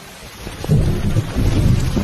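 Heavy rain pours in a dubbed film scene while a deep rumble of thunder swells and rolls beneath it, loud and close, with no speech.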